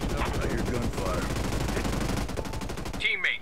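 Gunfire rattles in the video game Ghost Recon Breakpoint during PvP play, rapid evenly spaced automatic shots close by and fairly loud, a sustained burst that cuts off near the end as a higher electronic game sound takes over.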